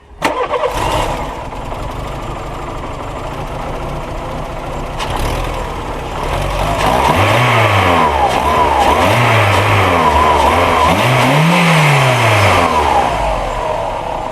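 A car engine cranks and catches, then idles loudly up close, with several swelling revs rising and falling toward the end.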